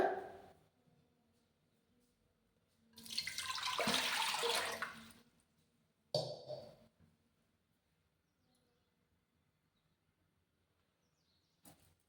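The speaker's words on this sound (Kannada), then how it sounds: "ಒಂದು ಕುಕ್ಕರ್ ಇಟ್ಕೊಂಡಿದ್ದೀನಿ ಇದಕ್ಕೆ ಇವಾಗ ನೀರು ಹಾಕ್ಕೊಳ್ಳೋಣ" Water poured from a vessel into a pressure cooker on a gas stove, the start of a kohlrabi and pigeon pea dal sambar: one close, steady splashing pour lasting about two seconds, then a brief clank and near silence.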